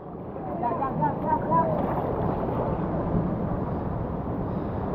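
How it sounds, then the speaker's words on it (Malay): A small boat pulls away across the water during a Malaysian fishing expedition, its steady broadband rumble and splashing wash filling the scene, with wind buffeting the microphone and people talking over it. "Bot nombor 2 lepas."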